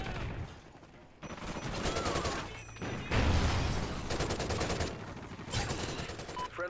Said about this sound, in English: sentry gun galore!